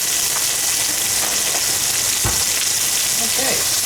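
Sliced mushrooms and onions fry in plenty of oil alongside pork chops, giving a steady, close, dense sizzle with scattered pops and a brief clatter of stirring, with no talking.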